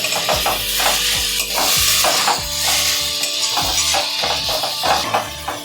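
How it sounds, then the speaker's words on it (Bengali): Beetroot and carrot stirred in a hot frying pan: a close, continuous sizzle broken by repeated rhythmic scraping strokes of a spatula against the metal. "বিট আর গাজরটা দিয়ে দিচ্ছি। ভালো করে নেড়ে নিচ্ছি।"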